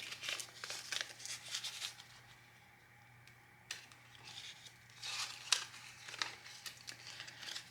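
Paper cash crinkles and rustles as it is slid into an envelope, bursts of close crisp crackling separated by a quieter pause.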